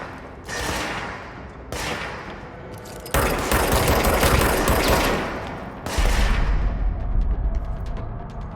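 Enemy gunfire in the action game Control comes as loud, sustained automatic bursts separated by short gaps, with heavy impacts and thumps filling the later stretch and nobody speaking.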